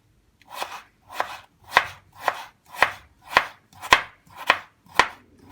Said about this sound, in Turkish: Patateslerimi ince bir şekilde doğruyorum.